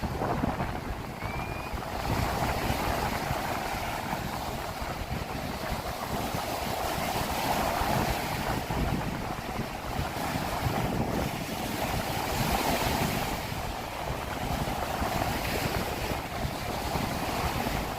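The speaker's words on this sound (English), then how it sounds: "nice waves here of Lake Michigan crashing against North Avenue Beach" Lake Michigan waves crash against North Avenue Beach in Chicago, a continuous broad roar of surf with swelling rushes and wind noise, steady and close with no talking.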